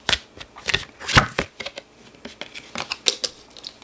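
A deck of tarot cards is shuffled up close in a series of quick riffling bursts and soft slaps, with short pauses between them and no voices.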